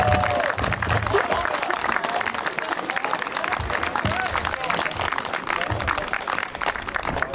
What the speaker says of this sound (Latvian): Aplausi Mārtiņam!